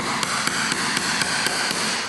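Steady, evenly spaced metallic hammer strikes, about four per second, drive a brass chisel against the fuel tank of a GMC Envoy, close and loud over a broad hiss.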